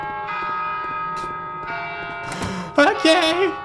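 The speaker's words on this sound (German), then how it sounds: "Ja, die Glocke." A bell in the horror video game Vermination tolls with sustained ringing tones and repeated strikes, joined near the end by eerie wavering voice-like sounds and a clatter, fairly loud and without talk.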